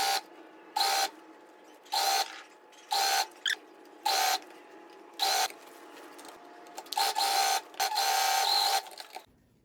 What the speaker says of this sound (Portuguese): Eu faço a costura com meio pé de máquina.